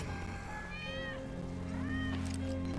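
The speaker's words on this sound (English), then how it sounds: "That's Wedge's cat." In the video game Final Fantasy VII Remake, a cat gives a couple of drawn-out, wavering meows, heard clearly over a steady background hum of game ambience.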